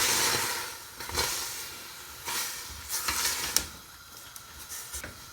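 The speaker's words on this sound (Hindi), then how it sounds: "अच्छे तरीके से मिक्स कर लेंगे।" Spiced minced meat for samosa filling stirred in a pot, giving quiet scraping strokes with a faint sizzling hiss underneath and several sharper clinks and scrapes at irregular moments.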